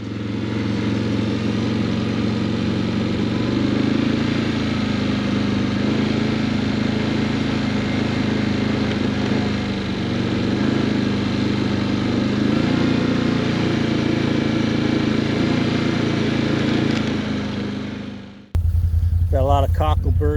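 A Can-Am side-by-side engine runs steadily for about eighteen seconds with a low, even drone and mild rises and dips in load, then cuts off abruptly and is followed by a short burst of talk.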